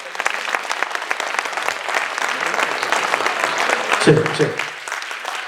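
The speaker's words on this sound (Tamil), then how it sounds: "நம்ம மீண்டும் ஒரு பெரிய கைத்தட்டல் கொடுத்துடலாம்" An audience bursts into loud, sustained applause, dense clapping filling the room at close range, with a brief voice heard near the end.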